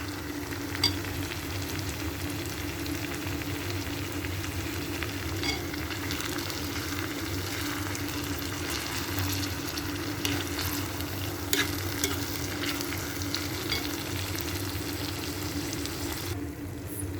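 Crab roast with tomato in a pan, Kerala-style Nadan Njandu Roast, giving a constant close sizzle with ongoing scraping stirs through the whole stretch and no talking.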